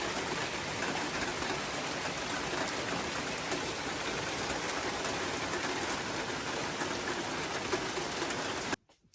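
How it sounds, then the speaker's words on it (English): Heavy, continuous rain pouring down in a steady wash of noise that cuts off abruptly at the end. "Yeah, raining cats and dogs."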